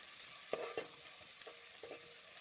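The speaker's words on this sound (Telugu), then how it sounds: "ఫ్రై అయ్యే వరకు వెయిట్ చేద్దాం" Onions frying in a pan for capsicum curry, a quiet, steady sizzle with a few soft clicks of a spoon stirring, no voices.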